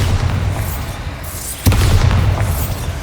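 A Bombarda spell explodes in Hogwarts Legacy with a loud, deep boom partway through, set against a rumbling game backdrop with whooshing magical effects before and after.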